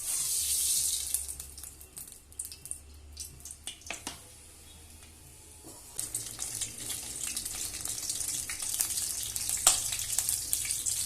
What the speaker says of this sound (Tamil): இப்போ பாத்திரம் சூடான உடனே நம்ம நல்லெண்ணெய் எடுத்து ஊற்றிக்கலாம்.